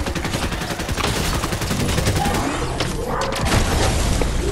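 Rapid gunfire in the Fortnite Battle Royale solo mode, a dense continuous barrage of shots throughout with a brief lull midway, loud and close, with no talking.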